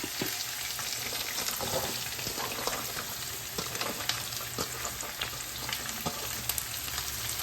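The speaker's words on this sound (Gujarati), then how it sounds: "હવે આપણે જે ભીંડા સામારીને રાખ્યા છે એની અંદર આપણે એડ કરી દઈશું" Cut okra fries in hot oil in a pan, giving a dense, steady sizzle with scattered crackles and pops, close and even in level throughout, without any voices.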